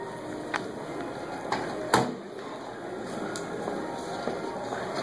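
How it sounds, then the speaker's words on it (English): A Messerschmitt bubble car's canopy is swung open, giving a few soft clicks and a sharper latch knock partway through, fairly faint over a steady background hum and high whine. "The canopy opens."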